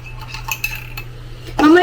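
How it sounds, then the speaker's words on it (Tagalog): A metal spoon clinks and scrapes against a mug while stirring Milo into hot water, a few light taps followed by a louder, brighter clatter at the end, close and without talk. "And stir."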